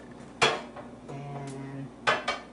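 A hot metal pan clanks sharply against the stovetop as it is moved, with a ringing scrape in between and two more quick knocks at the end.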